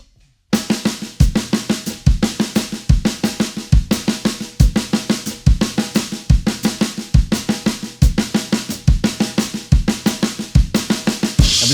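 A drum kit plays five-note groupings as 16th notes against a quarter-note pulse, giving a steady, looping pattern of loud accented hits with fast strokes between them, close and dry with no voices.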